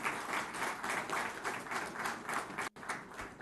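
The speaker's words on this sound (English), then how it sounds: "Well, that deserves a round of applause to our Honorable Minister, Shri K.T. Ramarao" Audience applause at a government inauguration event in Hyderabad for a minister, sustained clapping from a seated crowd at moderate distance, with a momentary dropout near the end.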